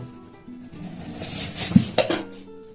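Spoon stirring sugar and milk into burger ingredients in a bowl, giving a few close clinks and scrapes of metal on dish that build to sharper knocks near the end, with no talk.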